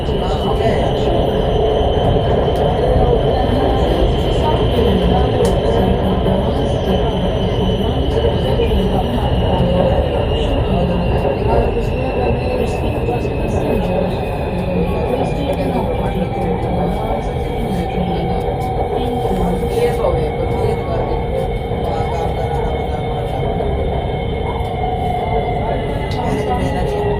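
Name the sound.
Lahore Orange Line metro train riding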